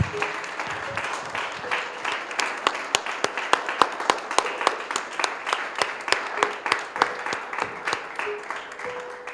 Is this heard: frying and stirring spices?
no